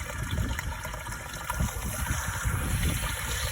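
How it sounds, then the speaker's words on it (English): Water drains through the plumbing of a 2016 Thor A.C.E. 29.3 motorhome into its gray tank, a steady close trickling wash that runs continuously without pause. "now it seems to be draining just fine"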